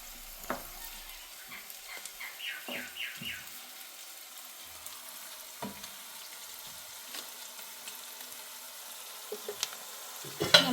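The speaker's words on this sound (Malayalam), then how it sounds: "ഒരു നുള്ളു ഉപ്പ് പെട്ടെന്ന് വഴന്ന് കിട്ടാൻ വേണ്ടിയിട്ടാണ്." Onions sauté in a pan with a pinch of salt for chicken kadai, giving a faint, quiet sizzle broken by several soft scraping stirs and light clinks, with no talking.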